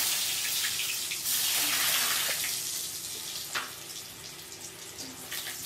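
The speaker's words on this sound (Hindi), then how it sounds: "हमारा तेल भी एकदम गर्म हो चुका है, जिसमें हम थोड़ी फ्रेंच फ्राइज तलने डालेंगे।" French fries frying in hot oil, a continuous dense crackling hiss that swells early and then settles into steady bubbling with occasional sharper pops, close and alone without speech.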